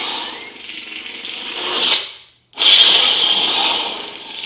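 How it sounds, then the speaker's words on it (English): Kylo Ren style lightsaber sound font from a replica saber, a harsh, crackling, buzzing hum that swells, cuts out briefly, then reignites into a loud, gritty, sizzling drone close by. "these are the sounds inspired by Kylo Ren's lightsaber in The Force Awakens. It's got a very distinctive hum."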